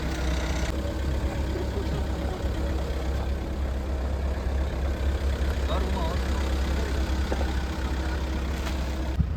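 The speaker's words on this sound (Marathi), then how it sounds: "बघा कशी कार चालवते" A Mahindra Thar's engine runs at a steady idle-like hum throughout while a child drives it at an annual day event, with people talking over the continuous engine drone.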